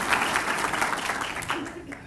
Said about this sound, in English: Grandchildren Andrew and Robin, give them a round of applause.